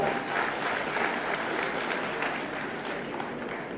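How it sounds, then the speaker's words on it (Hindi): Brisk applause from a crowd at a political gathering in Odisha, dense clapping that holds steady and tapers slightly toward the end with no speech over it. "जरा जोर से ताली तो बजाओ।"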